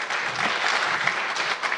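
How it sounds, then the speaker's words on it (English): Brief burst of audience applause for panelists at a diversity and equity panel discussion, steady, even clapping without voices over it. "please give a round of applause for our incredible panelists."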